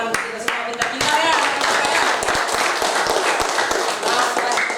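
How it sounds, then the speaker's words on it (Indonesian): A group of students clapping hands in a classroom, loud, sharp claps starting in uneven bursts and then merging into a dense, steady round of applause with voices mixed in. "Oke, tepuk tangan untuk kita semua"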